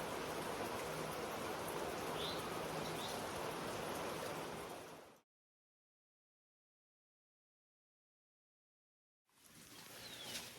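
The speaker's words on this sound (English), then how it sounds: "Well, it started to rain again." Rain falls on a hiking stretch of the Appalachian Trail, a dense steady hiss with faint bird chirps. The hiss breaks off into a few seconds of silence and then returns.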